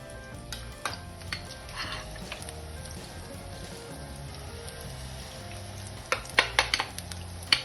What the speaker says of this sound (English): So leave that in the pot, let them fry till they become golden brown color.